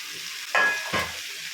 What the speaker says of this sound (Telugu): ఇప్పుడు కట్ చేసి పెట్టుకున్న తోటకూర వేసుకుందాం